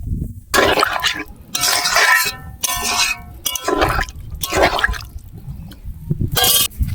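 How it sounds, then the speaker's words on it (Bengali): Water splashes into a pan of fried Bengali curry masala with boiled potatoes, poured close by in several separate gushing bursts with short pauses between them. "কষানো হয়ে গেছে আমার, এবার আমি জল দিয়ে দেব।"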